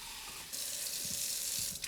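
Water runs from a kitchen tap to add to bread dough, a steady hiss that starts abruptly after a brief quiet moment and continues close and constant, with a few soft knocks underneath.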